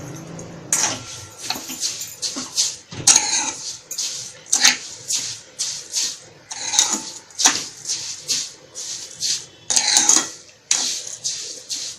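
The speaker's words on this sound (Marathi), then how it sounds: "कढई ठेवून घेऊया आपण गॅसवरती।" A kadhai (wok) set down and shifted about on a gas stove, with repeated close metallic clanks and scrapes in an uneven rhythm and no talk.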